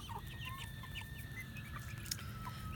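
Chickens in a mixed flock cluck and chirp softly in repeated short calls, fairly close, over a low outdoor rumble, with no talking.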